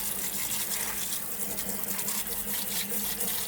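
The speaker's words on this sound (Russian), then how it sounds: "Сейчас мы делаем душевание холодной водой, чтобы резко прекратить варку колбасы." Cold water showers steadily over freshly cooked homemade sausage to halt the cooking, a continuous close hiss and splash of running water that holds an even level throughout with no talking.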